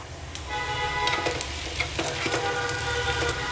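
Whole cumin, panch phoron and black cumin sizzle and crackle in hot oil for mixed vegetable curry, a steady close frying hiss with scattered small pops and a few stirring clicks, no voices.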